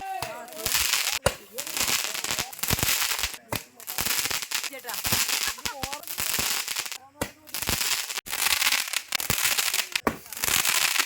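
Dense volleys of firecrackers bursting for the Vishu festival in Kerala, loud rapid pops and crackles overlapping continuously, with people's voices faintly mixed in.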